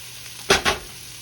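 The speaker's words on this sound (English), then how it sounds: "We're gonna cook these onions maybe about 2 or 3 more minutes" Corned beef hash with potatoes and onions frying in oil gives two quick, loud bursts of sizzling in close succession, likely as the food is stirred or turned, over a quiet background.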